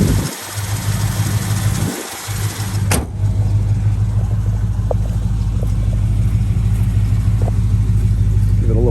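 A 1979 Chevrolet Camaro engine idles with a deep, steady rumble after a couple of quick revs at the start, close and loud, with faint voices in the background.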